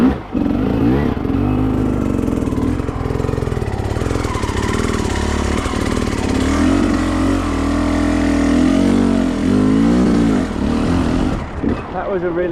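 Enduro dirt bike climbing a steep ledge in first gear, its engine loud and close, rising and falling in revs under sustained load, with a voice faintly audible beneath it.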